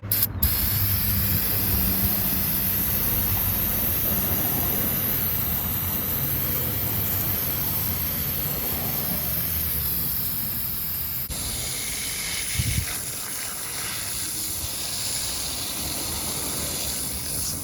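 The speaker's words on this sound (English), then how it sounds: "try to hose off as much as we can, scrub it a little bit" Water hose spraying off a car part from a 5-speed Ford Grand Marquis, a loud steady hiss of spray that shifts in tone partway through as the stream moves, close and continuous with a brief clatter.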